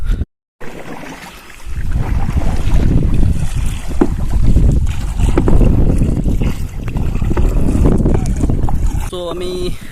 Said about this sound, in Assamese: চ' আমি গৈ আছোঁ নাৱেৰে এখন ধুনীয়া ঠাইত